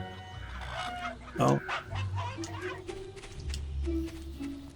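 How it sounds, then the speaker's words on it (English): A chicken in the video game Fable Anniversary clucks in short bursts around a village setting, mixed with game ambience while a person speaks over it. "Hello, chicken."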